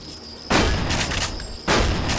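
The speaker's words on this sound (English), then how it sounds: "Let's just use the shotgun on this" A shotgun fires in the Deus Ex video game. Two loud, heavy blasts land about a second apart, each with a sustained booming tail, and no voice is heard.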